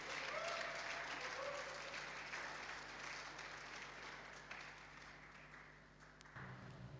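Audience applause fills the hall at the final of a PSA squash tournament in Namibia, a steady wash of clapping that fades slightly near the end, heard fairly faint and distant.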